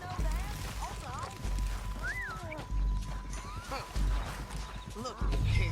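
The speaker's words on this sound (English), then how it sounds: "We need our horses." Horses neigh and whinny with clip-clopping hooves in a Red Dead Redemption 2 gunfight scene, loud and close, with several whinnies over a busy mix of game action and talking voices.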